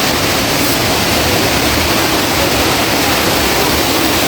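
The Savatkada waterfall makes a loud, unbroken roar of rushing water that fills the entire stretch with dense, even noise. No voices or other distinct sounds break through.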